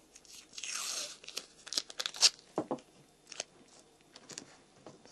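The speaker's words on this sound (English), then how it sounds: "Now I'm going to stick that down on the table with a little bit of masking tape." Masking tape pulled and torn from the roll to fix a picture to a table, one longer ripping sound followed by several short crinkles and taps, close and fairly quiet.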